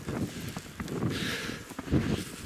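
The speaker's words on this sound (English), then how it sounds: "it's really windy" Steady gusting wind buffets the microphone, a low rumbling roar with brief rustles and soft thumps, fairly close and continuous, without speech.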